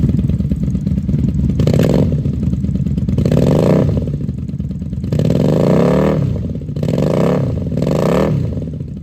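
A 750 cc Honda Magna VF750C V4 cruiser with Vance Hines pipes, factory, no baffles, revs up repeatedly, rising from a deep, steady idle rumble into loud, rasping bursts and falling back each time.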